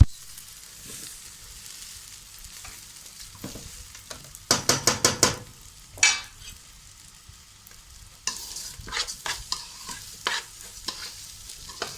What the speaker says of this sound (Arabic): نقلب بس الرز كده عشان ايه ما يحمرش